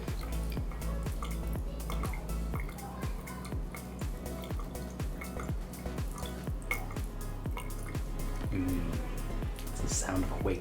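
A single-cup coffee maker brewing, with steady dripping and trickling water into a cup over a constant hum, close and continuous throughout.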